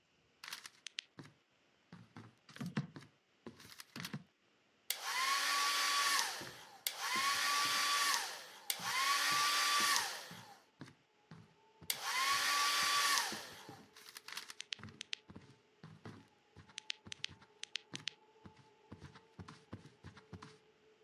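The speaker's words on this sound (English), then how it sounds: "I found a hair dryer." A hair dryer blows in four loud, steady bursts of a few seconds each, separated by short gaps, with scattered tapping and handling clatter before and after.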